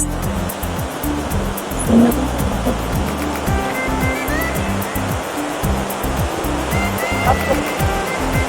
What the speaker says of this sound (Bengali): এখান থেকে ওয়াটার ওয়াটারফলসের জলটা আসছে ওই দেখুন ওয়াটারফলস